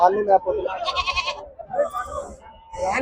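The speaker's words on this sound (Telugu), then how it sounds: "ఇక్కడ పోతులు ఉన్నాయి" Male goats bleat loudly close by at a livestock market, several wavering cries overlapping, with a voice talking between and beneath them.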